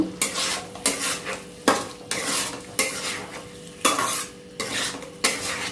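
Fried potatoes stir-fried with masala in a pan, heard as regular loud scraping strokes of a spoon about every second over a low sizzle, close up, with no one talking.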